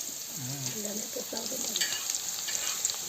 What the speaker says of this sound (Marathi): टाकते कांदा चांगला परतून लाल होऊन द्यायचा आहे हो